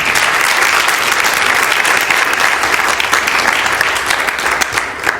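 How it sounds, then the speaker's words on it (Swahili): A church congregation claps for Jesus in sustained, dense applause that fills the room evenly for several seconds, loud and close with no pause. "Hayo yalikuwa ni makofi ya Yesu"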